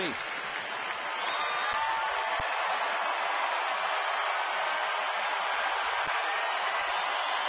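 A baseball crowd at Petco Park in San Diego roars and applauds as the Padres face Colorado, down to their last out in the ninth inning. The wash of noise is steady, dense and fairly loud for the whole stretch.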